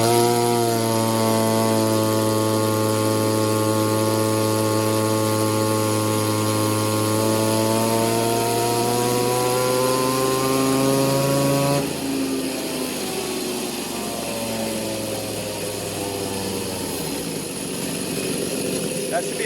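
Small Echo 2511 clone chainsaw engine screaming at full throttle during a dyno power pull, a loud steady high-revving whine that holds for about twelve seconds, then drops in pitch and trails off as the engine is loaded down.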